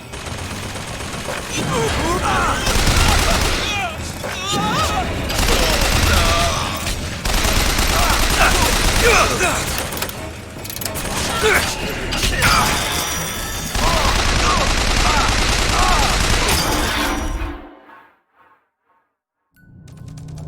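Heavy, sustained video game gunfire roars loudly for about seventeen seconds in dense rapid bursts, then cuts abruptly to near silence.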